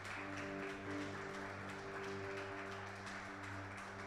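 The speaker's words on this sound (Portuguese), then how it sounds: "Você pode dar um aplauso para o Senhor por isso?" A church congregation applauds in a dense, sustained wash of clapping that holds steady for a few seconds under a faint organ-like drone.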